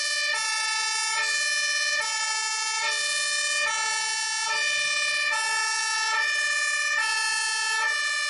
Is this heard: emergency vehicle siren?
yes